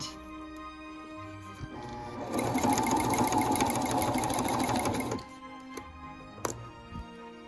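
A sewing machine stitches a Regency corset in a steady, rapid mechanical whir lasting a few seconds, set between quieter handling noises and a sharp click near the end.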